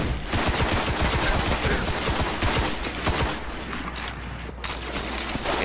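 Rapid automatic gunfire and bursts of shots from weapons in the sci-fi shooter video game Destiny, loud and continuous with booming impacts, no talking.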